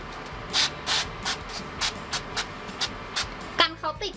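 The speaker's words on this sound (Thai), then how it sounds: "เราจะเอาเป็น ออยสเปรย์ฉีดอีกทีนึงค่ะ" A can of cooking oil spray hisses onto dumplings on a plate in a series of short, sharp bursts, about a dozen in quick uneven succession, close up, with a brief clatter at the end.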